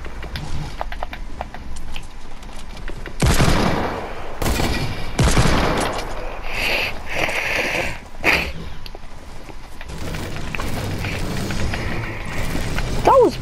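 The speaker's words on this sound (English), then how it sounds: "I hear gunshots." Gunfire in a video game, with bursts of rapid shots and heavier fusillades mixed with mechanical clicks and clatter, fairly loud and close, alongside keyboard-like tapping.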